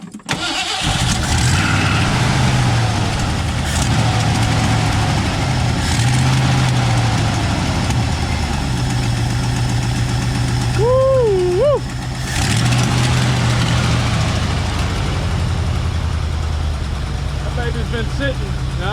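A 1968 Ford F100 truck engine idles steadily after cranking, running rough with a miss on one cylinder; the low rumble continues throughout while people talk over it.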